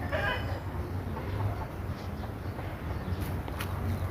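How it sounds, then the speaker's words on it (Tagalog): Chickens clucking at close range against a busy farmyard background, with brief high chirps suggesting chicks peeping. "ang daming sisiw ayun o oh"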